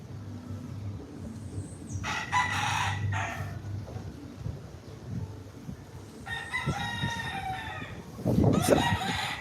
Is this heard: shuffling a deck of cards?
no